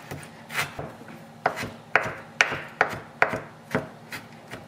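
Knife on a cutting board finely chopping peeled ginger, a series of sharp, close taps at an irregular rhythm, some doubled, with a faint low background hum and no talking.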